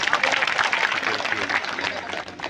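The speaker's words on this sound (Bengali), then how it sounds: "তাদেরকে হাততালি দিয়ে করতালি দেন।" A crowd at an outdoor BNP political rally in Gopalpur applauds an arriving procession, a dense patter of clapping mixed with crowd murmur and voices.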